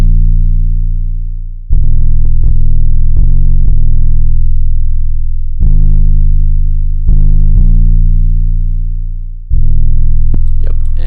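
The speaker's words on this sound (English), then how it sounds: "I make the 808 in another pattern, and it sounds a little bit like this" Heavy distorted 808 bass playing a pattern in a beat, very loud sustained booming notes that slide and restart in uneven bursts, with brief gaps and faint higher percussion hits near the end.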